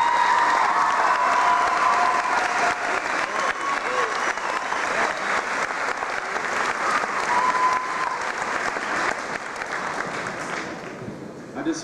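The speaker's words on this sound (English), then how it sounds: "Could you guys please give them a round of applause?" A large crowd applauds the school strings and band at a high school graduation commencement, with thick, sustained clapping and some cheering that gradually tapers off near the end.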